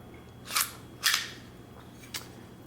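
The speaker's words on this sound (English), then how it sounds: "You would charge your weapon like that." Fightlite MCR belt-fed upper being charged, a few sharp metallic clacks: two close, crisp snaps a half-second apart, then a lighter click, with no talk.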